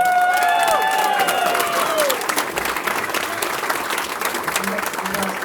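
An audience at a live punk-folk concert applauds steadily, a dense wash of clapping with a few cheers and voices mixed in at the start.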